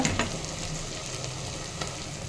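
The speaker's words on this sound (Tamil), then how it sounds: "இப்போ கூடவே ஒரு கொத்து கருவேப்பிலை சேர்த்துக்கலாம் நல்லா இந்த அளவுக்கு வதங்கணுங்க" Tomato and curry leaves sauté in hot oil in a pan, a steady close sizzle with a light stirring scrape.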